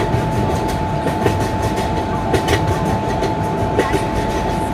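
An Indian Railways train runs on the tracks between Surat and Vadodara, giving a continuous rumbling roll with rhythmic clickety-clack wheel beats and a steady tone held above it, loud and close throughout.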